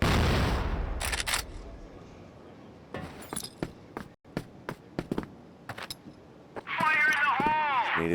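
Grenade blast and scattered gunfire in the CrossFire first-person shooter during a tournament match: a burst of noise at the start, then a string of sharp separate shots under commentary, ending in a louder stretch of tonal game sounds.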